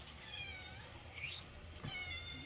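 A cat meows repeatedly while being offered bread in a home kitchen, with a few drawn-out mews rising and falling at moderate distance over faint background noise.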